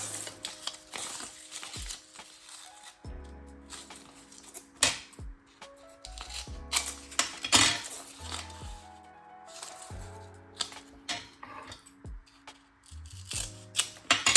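Cardboard being cut during a cardboard box-making craft project, an uneven series of close, crisp snips and scrapes with short pauses and faint handling noises between cuts, no voices.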